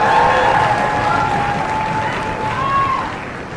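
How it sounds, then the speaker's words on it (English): Sustained audience applause at an elementary school beginning ensemble concert for the fourth grade band, broad steady clapping from a crowd with a tonal hum and faint voices running beneath it. "A round of applause for the fourth grade band."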